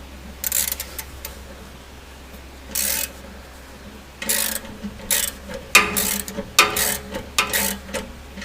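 A ratchet on an extension turns a starter bolt while a mini starter goes onto a big block engine, giving loud, close bursts of rapid pawl clicks in short irregular strokes separated by brief pauses, over a low steady hum.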